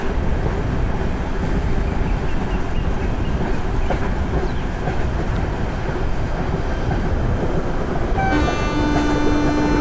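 Garib Rath Express train running in Train Simulator Classic, a steady loud rolling rumble with rail clatter throughout, then a horn-like tonal blast near the end.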